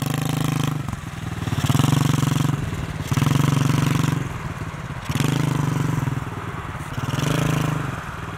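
A pit bike engine idling roughly, its uneven sputtering rising and sagging in repeated surges as though close to stalling, steady and fairly close with no talk.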